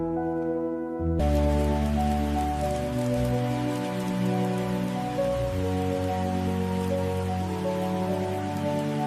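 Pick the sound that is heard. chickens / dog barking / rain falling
rain falling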